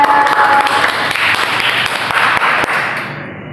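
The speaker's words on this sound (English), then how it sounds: "Please give applause for Faiza." A class applauds a student after she answers correctly, giving a dense burst of close clapping for about three seconds that thins and fades out at the end.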